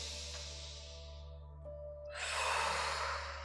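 A single drawn-in breath during a relaxing face yoga exercise, rising into a soft, airy inhale near the microphone after a quiet exhale, over a steady low electrical hum.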